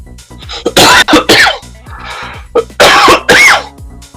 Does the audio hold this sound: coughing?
yes